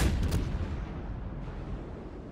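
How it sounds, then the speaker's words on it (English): Des Moines cruiser guns in World of Warships fire a loud, close booming salvo at the start, which rolls into a long rumbling decay. "The Des Moines is shooting him as well."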